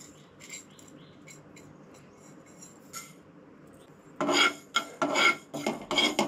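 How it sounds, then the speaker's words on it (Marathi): Fenugreek seeds dry-roasting and being stirred on a hot tawa, a quiet scraping and rattling that swells into louder raspy bursts in the last two seconds, with no one talking. "हलकोसो म्हणटा तसो तवो गरम करून घेवंक जाय आनी तेज्या मागीर मेथी जे आसा न्हय ते हलकेशे भाजून घेवंक जाय"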